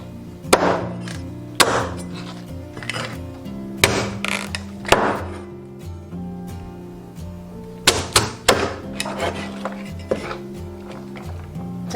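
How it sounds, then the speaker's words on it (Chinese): A lobster being chopped into small pieces makes heavy, irregular thunking chops, some spaced apart and others in quick clusters, close and loud. "接着我们处理一下龙虾，把它斩成小块"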